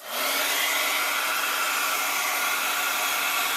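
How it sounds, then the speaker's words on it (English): A heat tool blows a steady, loud hot-air roar while melting embossing powder on a card panel, the whir holding constant and uninterrupted from start to finish with no talking. "I'm going to go ahead and heat again."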